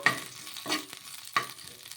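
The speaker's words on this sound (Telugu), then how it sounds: "కొద్దిగా చింతపండు కూడా వేసుకోవాలి వేసుకొని ఒకసారి బాగా కలిపేసుకుందాము" A spoon stirs tamarind and green chillies in a pan, giving three short scraping strokes with a faint sizzle between them, close by and fairly quiet.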